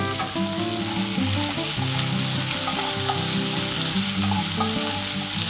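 Around 200 grams of okra fries in a hot pan with turmeric and salt, producing a steady, loud, close sizzle with a faint scraping of stirring throughout and no talk.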